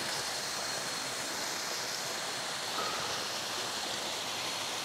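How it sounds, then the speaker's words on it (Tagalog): A waterfall at Lamesang Bato in Ternate, Cavite produces a steady, broad rushing roar that holds an even level throughout, with no voices. "Ayun yung falls."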